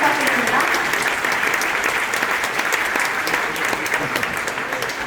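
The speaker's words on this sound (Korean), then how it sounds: "큰 박수 부탁드립니다." Wedding guests at a Korean church-style ceremony applaud loudly and steadily, a dense sustained clapping that fills the room for the whole stretch with a faint murmur of voices underneath.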